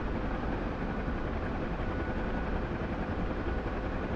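Helicopter in a combat flight game, a steady dense rotor and engine roar holding at even loudness throughout with no pauses, no voices over it.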